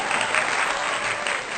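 An audience applauds at a Gujarati dayro comedy show, a dense, steady burst of clapping filling the whole short moment.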